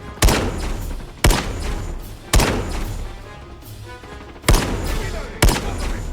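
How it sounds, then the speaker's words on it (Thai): Five sharp, punchy gunshots from the SKS rifle in Call of Duty Mobile, fired one at a time about a second apart, each with a short booming tail, synthetic and loud with no voices. "เดี๋ยวขอเสียงปืนก่อน"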